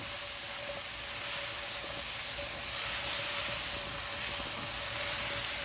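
Salted mushrooms cooking in a pan for tacos, a steady close sizzle and hiss with faint crackles running throughout.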